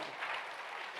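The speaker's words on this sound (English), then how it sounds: "I think that deserves a round of applause." Applause from an audience at an Arsenal supporters' annual event, a brief, even wash of many hands clapping together with no break and no voices.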